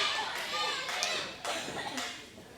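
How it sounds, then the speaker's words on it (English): A crowd at an independent wrestling show chants for a wrestler named Bam Bam, a rhythmic mass of voices with claps, loud and steady throughout. "the crowd chanting for Bam Bam"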